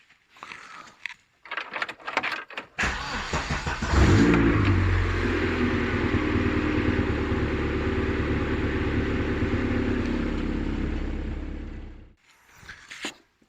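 A Vauxhall Nova SR with a C20LET redtop turbo engine cranks after some clicks and handling noises, catches with a loud burst, then idles steadily and close for about eight seconds before being switched off.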